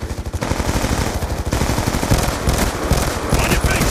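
Rapid, loud machine-gun fire from a Call of Duty match rattles in continuous bursts, aimed at bringing down an MQ-27 Dragonfire drone, with a brief pause near the middle.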